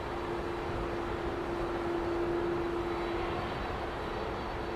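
An airliner departs runway 09R at Heathrow Airport in the morning, its engines giving a steady, distant broadband roar with a sustained tonal whine, heard alone at moderate loudness.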